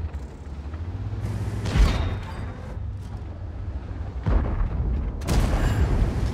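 Tank cannon shots in the video game World of Tanks, several heavy booming blasts spaced a few seconds apart over a low engine rumble.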